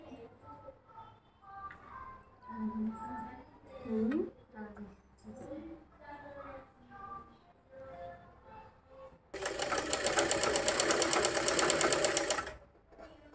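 A sewing machine stitches the cotton lining of a saree blouse, a loud, rapid, even whirr lasting about three seconds after a stretch of a woman's conversational speech.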